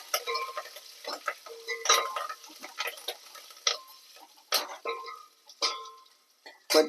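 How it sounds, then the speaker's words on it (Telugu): Tamarind and other ingredients for tomato rasam fry in a pan, with light crackling and intermittent spoon scrapes and taps, close but fairly quiet. "ఇప్పుడు ఇవన్నీ చక్కగా వేయించుకుందాం."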